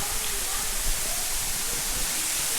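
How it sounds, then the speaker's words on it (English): Cove Falls, a mountain waterfall in Pisgah National Forest, pours as a steady, close, hissing rush of water with a faint voice underneath. "nice cool mountain water coming straight from the waterfall"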